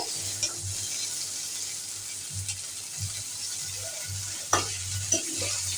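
Okra bhaji stir-fried in a pan over medium heat, a steady close sizzle broken by repeated scraping and clinking stirs of a spatula.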